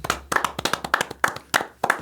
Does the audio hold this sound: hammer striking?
no